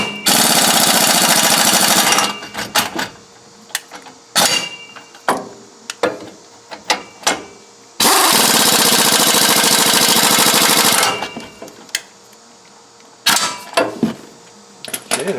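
An impact wrench tightens bolts during a front brake job on a 2000 Ford F350 4x4, firing in two long, loud rattling bursts separated by quieter clicks and clanks of handled parts.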